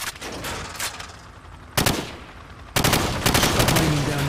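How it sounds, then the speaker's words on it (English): Hip-fire gunfire in Call of Duty 4: Modern Warfare on Xbox One, with three loud, dense bursts of rapid automatic shots separated by short pauses and echoing tails. "shoot at the targets while firing from the hip"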